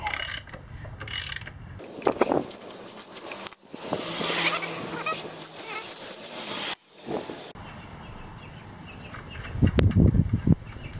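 Tight nut being worked off a Sur Ron Light Bee electric dirt bike rear end, with ratcheting clicks, metallic mechanical rattles and scraping in several bursts, close and fairly loud with short pauses between.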